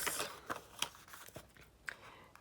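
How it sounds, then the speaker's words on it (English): Scissors snipping card stock or paper while crafting a prayer album, a handful of short crisp cuts spaced irregularly, close and fairly quiet with no talking. "grab your scissors,"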